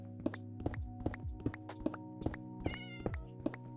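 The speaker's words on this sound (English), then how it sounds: "Hello, cat." A cat meows repeatedly from somewhere just overhead, about nine short, evenly spaced calls over a steady low hum, with one longer, more drawn-out meow near the end.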